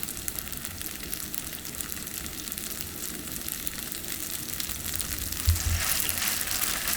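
Tofu slices frying in generous oil in a pan over high heat, giving a steady, close sizzle and crackle that continues throughout, with a brief louder pop near the end.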